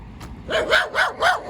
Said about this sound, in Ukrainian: І тут собака. Коротше, одні собаки.